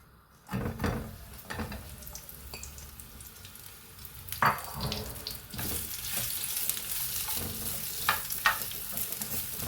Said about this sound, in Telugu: కొంచెం నెయ్యి వేసుకుంటే దాంట్లో ఏగుతాయి అన్నమాట అండి.